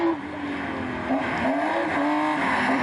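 Rally car driven well sideways on a forest stage in a Subaru-contested event, a continuous loud engine note rising and falling with tyre scrub under it, close and steady throughout.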